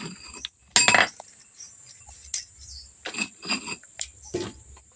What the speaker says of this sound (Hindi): अब हमारा यहाँ पर ढक्कन ढक दे रहे हैं और यहाँ पर अब हम डाल देते हैं पकने के लिए।